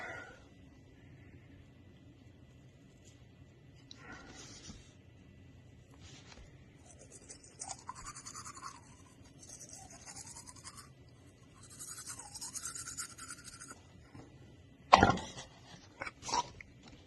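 Teeth scrubbed with a toothbrush loaded with anchovy paste give several bursts of hissy, rapid brushing, each a few seconds long, over a low steady hum with quiet gaps between.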